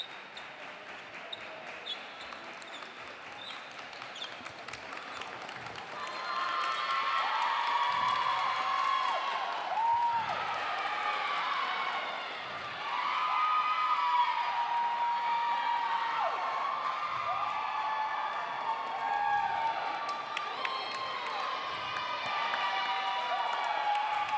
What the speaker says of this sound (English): Here's the Berryville crowd is getting fired up. Our crowd's getting fired up.